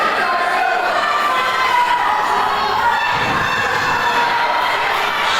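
Crowd at a kickboxing bout in Wales, a dense continuous roar of many voices cheering and shouting, loud and sustained throughout with no pauses.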